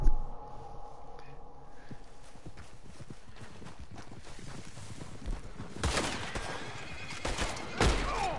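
Horse whinnying in a shooter video game, a neigh alongside clip-clop hooves and bursts of gunfire, with the sounds getting louder toward the end.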